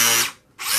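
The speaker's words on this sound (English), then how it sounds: "Put it over here and we'll gas it up a little bit so you can hear it." A Carrera Digital 1/24 Porsche 917K slot car motor whines in a short, high-pitched burst, cuts out for a moment, then whirs up again, loud and close.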